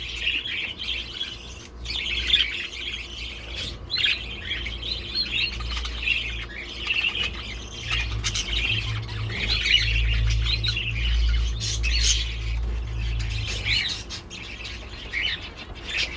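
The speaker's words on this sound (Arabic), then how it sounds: "أنا أكره مالي صوت الفراخ إذا جيت تسجل ولا شيء قاموا يصايحون" Backyard chickens chirping and squawking, with repeated close calls and brief flutters over a low steady background hum.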